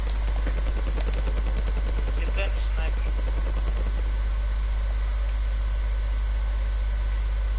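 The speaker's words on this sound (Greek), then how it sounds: "Το ελικόπτερο." A helicopter in the Warzone video game, a loud, steady rotor and engine roar that fills the whole stretch, with muffled game noise and voices underneath.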